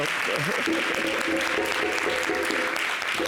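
Studio audience applauding on a French TV variety show, a steady wash of clapping that stays even and fairly loud throughout, with faint voices underneath.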